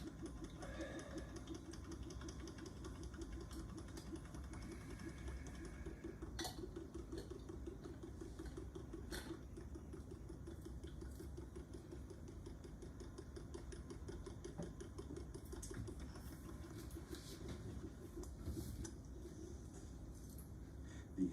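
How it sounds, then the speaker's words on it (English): A vacuum pump removing air from inside a pair of hemispheres runs as a steady mechanical drone with a low, rapid pulsing hum, moderately loud and unchanging throughout. "if we remove the air from the inside with a vacuum pump"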